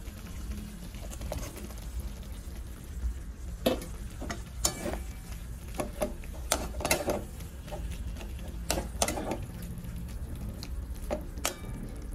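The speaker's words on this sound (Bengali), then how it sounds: "একদম তেল বেরিয়ে গেছে। পনির আর ক্যাপসিকামটা দিয়ে দেবো।" Paneer and capsicum frying in hot oil in a pan, a steady sizzle under irregular stirring clatters and scrapes, close and moderately loud, no talking.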